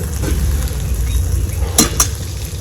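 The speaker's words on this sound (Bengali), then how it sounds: "ভালো করে নাড়া দিয়ে নেবো নাহলে পুড়ে যাচ্ছে তলা" Tomatoes and meat curry frying in a pan while being stirred, giving a steady loud sizzle with a couple of sharp scraping clinks of the spoon near the end.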